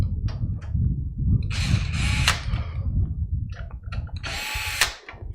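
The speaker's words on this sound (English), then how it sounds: "And then this piece just screws into the back." A power screwdriver drives a screw into the back panel of a 2012 Alienware Aurora R4 desktop PC, two close whirring bursts of a second or so each between soft handling clicks and rattles.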